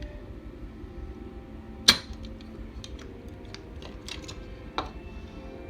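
Keys are pulled from a Yamaha Clavinova CLP-611 digital piano: two sharp plastic clacks stand out among a scatter of faint ticks and clicks over a low, quiet background.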